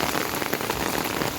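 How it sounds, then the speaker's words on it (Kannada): Heavy rain pours down steadily in a dense, unbroken hiss of drops striking surfaces, loud and close, with no voices. "ಫುಲ್ ಮಳೆ ಬರ್ತಿದೆ."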